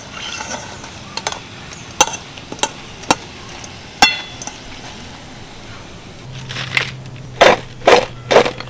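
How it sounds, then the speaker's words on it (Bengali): A crisp fried snack made from semolina and potato is snapped and rubbed close up, producing a series of sharp, dry cracks and crunches at irregular intervals, with a cluster of louder crunches near the end. "একটা ভেঙে দেখাই একটু ঘষেও দেখাচ্ছি দারুণ কিন্তু একটা মুচমুচে আওয়াজ হচ্ছে"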